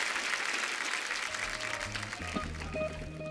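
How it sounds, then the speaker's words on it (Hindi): Sustained audience clapping in a television comedy show studio, loud and continuous, with some background music or tones entering partway through. "एक बार कमल सर के लिए जोरदार तालियां हो जाएं"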